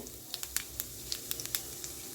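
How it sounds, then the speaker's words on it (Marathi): Cumin seeds crackle in hot oil, giving a quick run of sharp little pops over a soft, quiet sizzle. "जिरे मस्त तडतडले"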